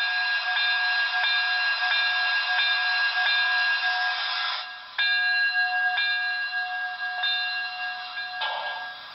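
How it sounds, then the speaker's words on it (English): The bell of a Broadway Limited K4s model steam locomotive sound decoder rings steadily and loudly in even repeated strokes, pauses briefly, then resumes and slows as it fades near the end. "So we'll go bell."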